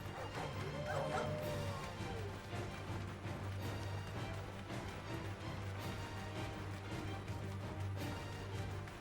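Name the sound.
dog enemy barking in Final Fantasy XVI video game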